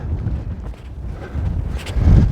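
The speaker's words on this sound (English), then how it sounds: "nice and windy up here" Wind on an exposed hilltop along the Cleveland Way walking trail buffets the microphone in low, gusty rumbles that rise and fall, strongest near the end, with no voices.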